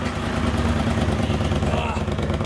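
A cafe racer motorcycle engine idles smoothly and evenly, a steady close low rumble that holds without revving while voices talk faintly nearby.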